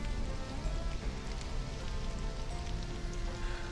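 Steady rain falling in the survival video game Stranded: Alien Dawn, an even hiss of drops on surfaces that continues unbroken and moderately quiet throughout, with no voices.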